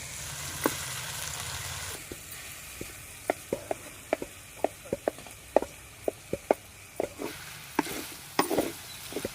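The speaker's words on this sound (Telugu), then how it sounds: "టమాటా ముక్కలు వేసుకుందాం ఉల్లిపాయ ముక్కలు వేపుకుందాం" Tomato and onion pieces frying in a pan give a steady soft sizzle, broken by frequent sharp knocks of a spoon stirring against the pan, with no voices.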